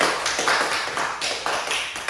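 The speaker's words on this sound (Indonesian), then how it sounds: "beri tepuk tangan buat teman-teman" A small classroom group claps for classmates in a short, close burst of about five or six rhythmic claps.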